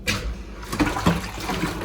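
Water pours out of a cooking pot into a sink, a steady close splashing rush that runs through the whole stretch without pause or speech.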